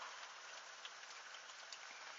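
Heavy spring downpour in Tour-en-Sologne, France, a dense, steady roar of rain pounding surfaces, loud and unbroken throughout with scattered sharper drop hits and no voices.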